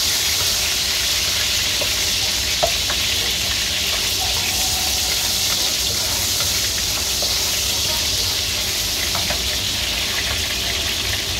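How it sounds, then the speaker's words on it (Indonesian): Galangal, bay leaves and lime leaves sauté in hot oil, producing a loud, continuous hissing sizzle with faint scattered crackles throughout and no speech. "ini semua akan saya tumis nanti sampai harum"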